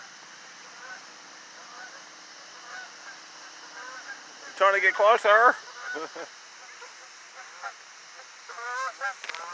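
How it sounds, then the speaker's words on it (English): Geese honk near a dam at dark, faint calls at first, then a loud cluster of close honks, more calls later, over a steady rush of falling water, with a person speaking briefly. "I hear the geese."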